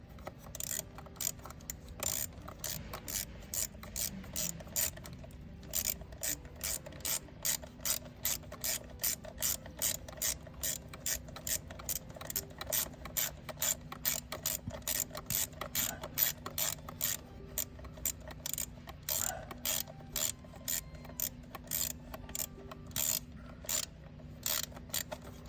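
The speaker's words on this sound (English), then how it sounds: "Tightening up those 8 millimeters that are holding on the fuel rail." Rapid ratchet clicking as a wrench tightens the 8 mm bolts holding the fuel rail on a Chevrolet Silverado, GMC Yukon or Tahoe engine, a long run of steady close clicks over a faint hum.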